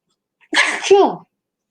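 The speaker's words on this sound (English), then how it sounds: "I had to sneeze" A single sharp, close sneeze bursts out of silence, a quick intake followed by a loud explosive release.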